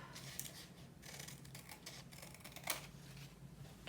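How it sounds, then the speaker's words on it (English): Scissors snip the perforated edge from a paper coffee filter during a grade-one art activity, giving a few quiet, close crisp cuts at a slow uneven pace with no talking. "We're going to cut those perforated part off."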